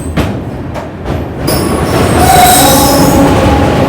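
Loud, sustained metallic wheel squeal from the LHB Tatanagar–Thawe Express as it pulls out of Kiul Junction railway station. Muffled rumbling comes first, then the screech rises and holds close by.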